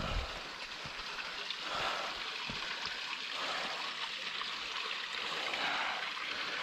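A creek flows and trickles through snowy ground, a steady wash of running water close by, with a few soft knocks near the start.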